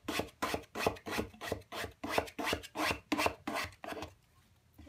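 A spatula pushes and rubs across fabric to flatten a crease on a fabric-covered MDF box, making about eleven rhythmic scraping rasps in steady strokes, close and fairly quiet, then stopping into near silence.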